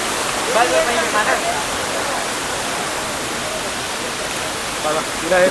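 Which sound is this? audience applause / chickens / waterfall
waterfall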